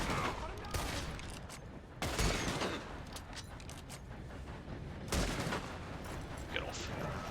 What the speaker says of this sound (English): I'm using varmint rifle.